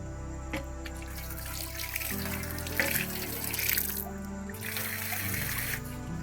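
Water runs steadily from a tap into a sink as someone washes their hands after a meal at a religious monastery. The flow is close and continuous with small splashing changes throughout.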